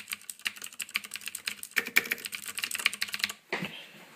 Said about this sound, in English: going to really enjoy using this cherry green switch keyboard as my main keyboard